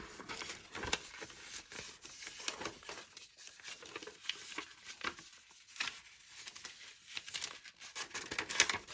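A paper sketchbook folded back and forth along its fold lines in a zigzag, giving soft, close crinkling and crackling rustles that come in irregular bursts through the clip.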